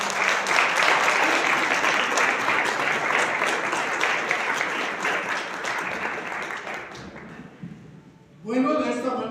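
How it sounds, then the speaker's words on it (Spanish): A church congregation applauding, broad dense clapping that holds strong then tapers off, followed by a voice starting to speak at the very end. "Denle un aplauso al Señor."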